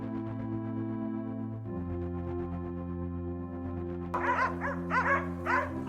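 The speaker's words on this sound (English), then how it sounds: "the sound of barking dogs broke the silence" A pack of hunting dogs barks in quick repeated bursts at a wild boar during a Florida swamp hog hunt, the close yapping breaking in after a steady humming drone.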